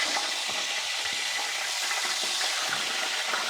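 Fish tail frying in hot oil, a steady broadband hiss and crackle of sizzling that runs continuously at even loudness, with no voices over it.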